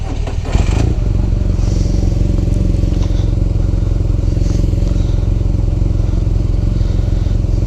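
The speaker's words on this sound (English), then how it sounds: "we are riding a used BMW R9T." A used 2017 BMW R nineT motorcycle on a test ride, its engine a loud, continuous close-up rumble with heavy wind buffeting and a few light clatters and thumps, with no voices.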